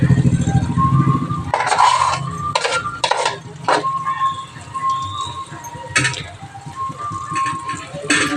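Spoon stirring a stuffed brinjal curry (gutti vankaya style) in a pan, with a few sharp scraping and clinking strokes against the metal amid a soft background hiss.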